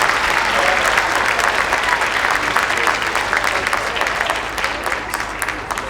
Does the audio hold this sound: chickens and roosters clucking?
no